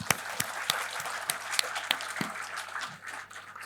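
Applause from a conference audience at a university event, a steady wash of many hands clapping with a few sharper claps standing out, fairly distant and even throughout, with no talking.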